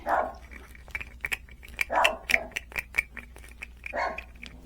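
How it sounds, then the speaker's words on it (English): A small dog barks repeatedly in quick sharp bursts, moderately close, with a low background hum. "She isn't a very big dog. However, she does have a big bark to her."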